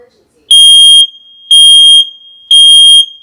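A Nest Protect smoke alarm shrieks after a smoke spray test, three loud, piercing electronic beeps in an even repeating pattern, each lasting about half a second with short gaps, close and alone.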